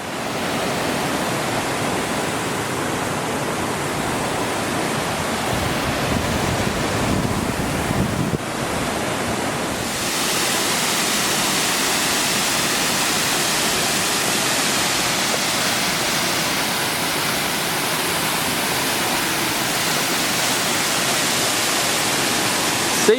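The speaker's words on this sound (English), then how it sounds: "this waterfall is spectacular" Mackenzie Falls in Victoria roars with a dense, continuous rush of falling water, loud and close, with wind buffeting the microphone and a brief dip in the roar partway through.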